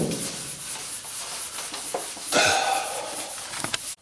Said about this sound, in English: Pops has been out here sanding this guy down.